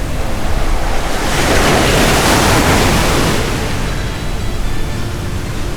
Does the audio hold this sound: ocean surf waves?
yes